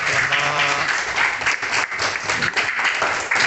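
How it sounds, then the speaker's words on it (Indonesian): Loud, dense applause from a classroom audience after a group presentation on series and parallel electric circuits, continuous clapping close up for a few seconds. "Baik, tepuk tangan, beri tepuk tangan semuanya."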